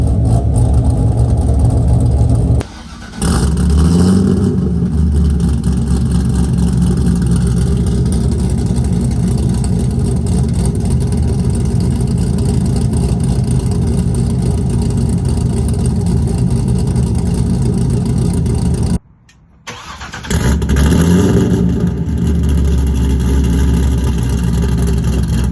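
Chevrolet Corvette C6 engine cruising, a steady loud low drone held throughout with two brief dropouts near the start and near the end.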